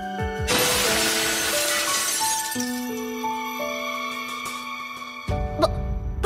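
Glass shattering in an explosion in a Honkai Impact 3 manga dub, a loud crash of breaking glass that rings out with sustained tonal shimmer and scattered tinkling fragments, under layered musical tones.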